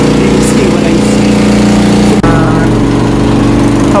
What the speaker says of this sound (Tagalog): Parang may electric pump ng tubig.